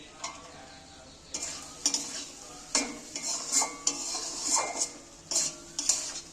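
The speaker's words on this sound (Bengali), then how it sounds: "মশলাটা আমি পটলগুলো তুলে দিয়ে ফের আমি ভালো করে কষিয়ে নিচ্ছি" Pointed gourd frying in a pan with spice paste, cashews and raisins, a spatula scraping and clinking against the metal in steady strokes over a soft sizzle, close and fairly loud, no voices.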